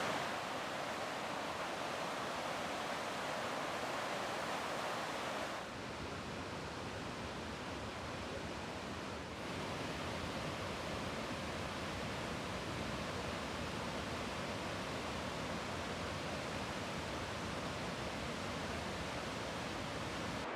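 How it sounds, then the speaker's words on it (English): Kootenai Falls in Montana roars as a steady, broad rush of falling water, loud and unbroken for the whole stretch, with a brief dip in brightness partway through and no voices. "Here we are at the falls."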